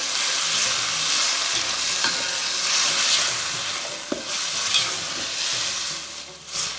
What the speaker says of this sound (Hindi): हमने इसमें डालना है पूरी की पूरी ग्रीन का पेस्ट, सारा का सारा, और हमें करना है इसको कुछ देर कुक